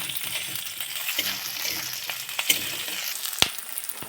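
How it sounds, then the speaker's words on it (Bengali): Onions and slit green chili frying in a pan, a dense steady sizzle close up with occasional spatula clicks and scrapes, and no one talking. "পেঁয়াজটা ভাজা ভাজা হয়ে এসেছে, এবারে দিয়ে দেবো যে কাঁচা লঙ্কাটা চিড়ে রেখেছিলাম সেটা"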